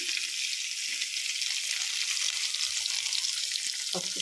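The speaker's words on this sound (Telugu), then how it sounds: "కొంచెం క్యారెట్ ఫ్రై అవ్వాలి కొంచెం క్యారెట్ ఫ్రై అయినాక దోసకాయ చేద్దాం" Carrot pieces and green chillies fry in a pan, giving a steady, even sizzle with a brief clink or stir near the end and no voices.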